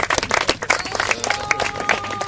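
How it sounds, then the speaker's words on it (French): Audience clapping for two champions after a clash match, sharp close claps in an uneven rhythm with a lively crowd noise and some voices mixed in. "On applaudit nos deux champions."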